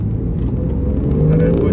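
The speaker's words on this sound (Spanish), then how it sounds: "Vamos a acelerar un poco más fuerte" A Porsche 911 Carrera 4S accelerates hard on the road, its engine a steady, loud, deep rumble that climbs in pitch toward the end, heard from inside the car while someone talks.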